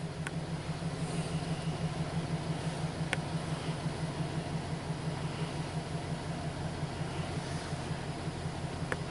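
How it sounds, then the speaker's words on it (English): Car engine idling with a cylinder 4 misfire and a cylinder deactivation/intake valve control fault, a steady low drone with faint irregular ticks, heard close and continuous. "I can feel the misfire on the steering wheel."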